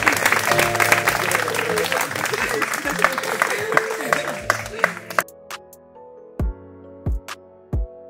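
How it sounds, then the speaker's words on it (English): Wedding guests applaud the couple during the ceremony after the sand ritual, a dense crowd clapping that fades out and gives way to a few sustained musical notes. "Un aplauso para ellos, por favor."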